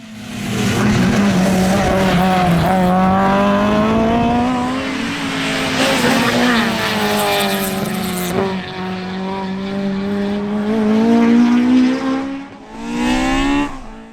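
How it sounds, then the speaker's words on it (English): A 2-litre Mark II Ford Escort rally car races past on a winter rally stage, engine loud and close, revs rising and falling through gear changes with a strong, sustained howl. "it's Galway man Torsten Schmidt who is the early pace setter in his 2-litre Mark II Escort"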